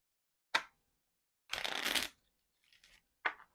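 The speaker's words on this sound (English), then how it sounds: "Let's go ahead and shuffle." Playing cards shuffled in three quick riffle bursts, the middle one longest, with a softer flutter in between; close and clear, no talking.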